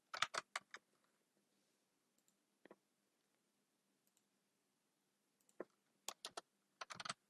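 Keystrokes on a computer keyboard come in short bursts of quick clicks, a flurry at the start and another near the end, with a long quiet stretch and a few isolated taps between them.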